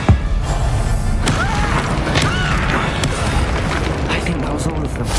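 Fiery spell explosion from the Hogwarts Legacy video game, a dense roaring burst with crackling impacts layered over continuous battle noise and game music, loud and sustained throughout.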